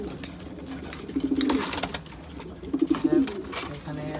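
Pigeons, including red checker birds, coo in a loft in two deep, rolling bursts, close and fairly loud, with faint background noise between them.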